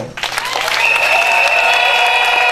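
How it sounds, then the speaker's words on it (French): Women in a crowd at a gathering in Kisenso break into loud, steady applause for the ambassador, a dense wash of clapping that starts abruptly and holds strong throughout. "je vais vous demander, Excellence, Monsieur l'ambassadeur, de vous lever pour que les femmes puissent vous acclamer encore"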